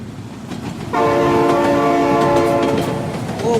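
In the BeamNG driving game, a train's horn blasts loud and sustained over the rumble and rattle of the rolling train, holding steady for a few seconds before starting to fade.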